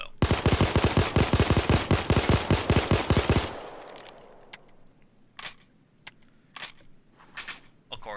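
Rapid pistol fire from a Glock 17, known as the Chimano 88, in the Payday 2 video game: a loud, fast burst of evenly spaced shots lasting about three seconds, followed by quieter scattered clicks and clatter.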